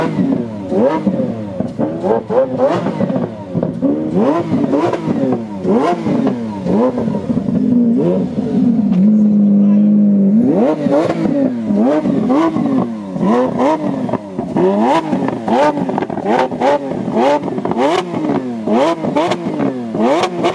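Tuned Ferrari 812 Superfast V12 with a titanium Oakley Design catback exhaust pulling away, loud rising and falling revs in quick repeated sweeps, a brief steady hold midway, then more sharp blips and pulls close by.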